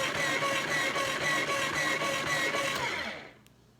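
Cook's Essentials electric mandolin grating cheese for pimento cheese, a steady motorized whir with a rhythmic pulsing texture that runs continuously and then cuts off abruptly near the end.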